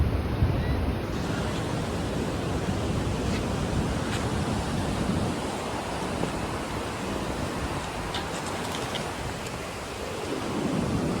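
River water rushes through the gates of a dam on the Sina river, a steady, loud, broadband roar with no pauses, like heavy surf.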